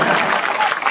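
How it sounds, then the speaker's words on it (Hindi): An audience at a Shrimad Bhagavat Katha religious discourse in Bihar claps loudly, a dense, continuous burst of applause filling the whole second. "जोरदार ताली बजाएंगे"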